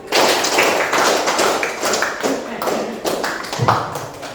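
A classroom of students clapping a rhythmic pattern together, a run of fairly loud, regular group claps with some thuds and taps, a teacher's voice mixed in among them.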